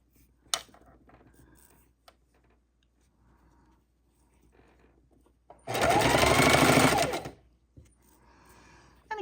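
Sewing machine stitching fabric scraps in a single steady run of about two seconds, loud and close, surrounded by quiet handling rustles and small taps.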